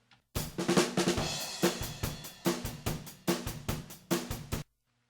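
Unprocessed drum kit playing a steady groove: punchy kick and snare hits with cymbals, close and fairly dry, ending abruptly into silence.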